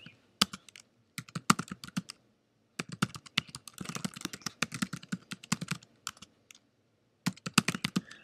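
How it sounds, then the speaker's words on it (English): Typing on a computer keyboard while entering a username and password into a forum registration form, with bursts of rapid, close-up key clicks separated by short pauses and no talking. "I'm going to type in all this information."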